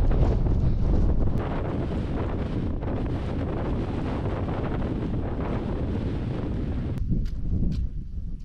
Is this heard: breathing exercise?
no